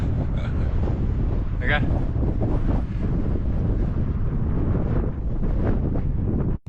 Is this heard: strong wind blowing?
yes